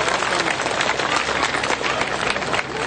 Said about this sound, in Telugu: ఏది ఒక్కసారి చప్పట్లు అందరూ కొట్టండి చూద్దాం.